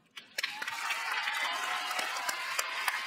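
Audience applause for a young singer at a televised kids' singing competition, a steady wash of clapping from a crowd with a few sharper individual claps standing out, moderately distant.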